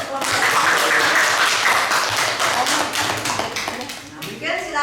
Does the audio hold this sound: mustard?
no